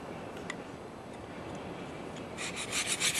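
A steel Simmons broadhead is rubbed against a sharpening surface under firm pressure to roll a burr, giving a steady close rasping scrape that brightens into quicker strokes near the end.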